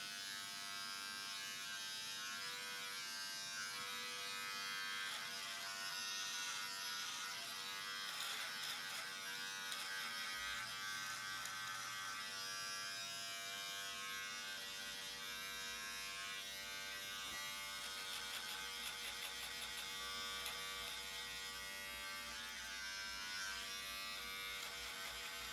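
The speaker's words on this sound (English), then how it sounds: "we're going to get out the clippers and we're just going to start clipping up the neck" Electric beard clippers buzz steadily and close up as they trim a big neck beard, a continuous whirring drone with slight shifts in pitch as the blades move across the hair.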